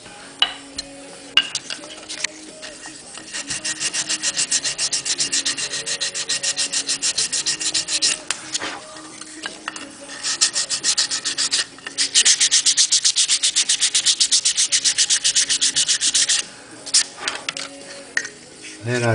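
A balsa wood model car body is sanded by hand with steady, continuous rasping strokes, brief pauses breaking the scratchy rubbing.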